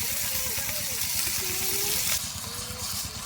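Ginger garlic paste dropped into hot oil, a soft continuous sizzle with faint bubbling and stirring, fairly quiet and close, without voices.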